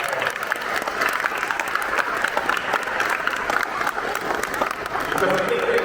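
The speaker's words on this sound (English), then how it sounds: "let's give them a round of applause" An audience applauding at an awards ceremony in a concert hall in Cincinnati, sustained dense clapping from a large crowd that swells slightly toward the end, with a voice faintly underneath.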